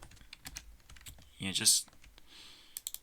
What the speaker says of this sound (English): the clicking sound, that's all I need